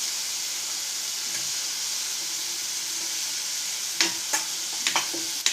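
Soaked chickpeas for chole tipped into a hot pan and stirred, a steady sizzling hiss of frying with a few sharp scraping knocks of the spoon near the end.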